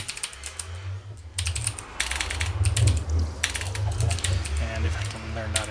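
Keys clatter on a computer keyboard in quick, irregular bursts of clicks, close and fairly loud, with brief pauses and a low hum in the background.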